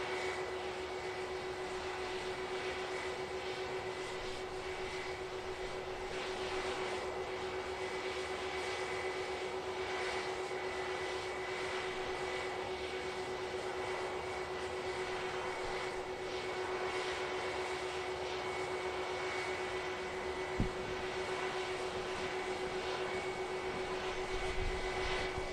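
A British Airways shuttle jet airliner on departure, a steady distant roar of jet engines with a faint whine held throughout, moderate and unbroken, with a brief click near the end.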